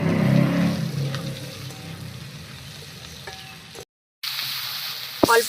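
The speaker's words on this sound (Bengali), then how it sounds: "এবার দিয়ে দেবো এর মধ্যে কেটে রাখা কাঁচা লঙ্কা, পেঁয়াজ আর রসুন। এবার আর কিছু সময় ভেজে নেব।" Green chillies, onion and garlic fry in a pan for a desi chicken curry, a strong close sizzle with stirring scrapes, a brief dropout, then louder sizzling and a sharp knock.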